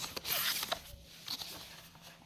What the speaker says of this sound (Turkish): Evet arkadaşlar kutumuzu açıyoruz.